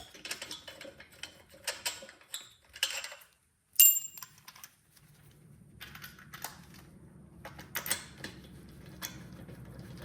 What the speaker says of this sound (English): we can remove our wheel hanger bolt and finish this one and this one